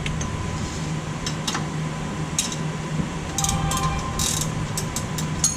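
Ratchet wrench tightening a front lower control arm bolt on a Volvo XC70, a steady run of fine metallic clicks with scattered louder ticks, close and continuous, no talking.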